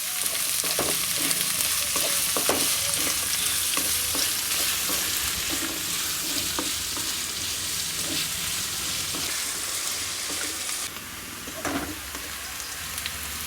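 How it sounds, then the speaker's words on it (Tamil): Chopped onions sautéing in a pan for village-style vadakari, a steady loud sizzle and crackle of frying with occasional stirring scrapes throughout, no voices. "கட் பண்ணி வச்ச வெங்காயம், வெங்காயம் வந்து வதங்கட்டும்."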